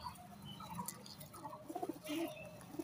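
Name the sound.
Madras pigeon cooing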